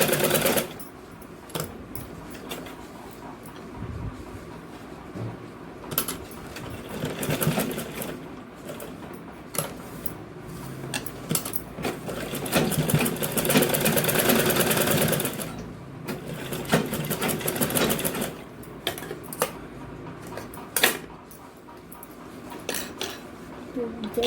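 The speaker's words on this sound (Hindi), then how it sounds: "इसको ऐसे पलट के मोड़ के सिल देंगे" A sewing machine stitches folded fabric in short, uneven bursts of rapid mechanical clatter, close by, broken up by pauses and small clinks of handling. It runs without talking.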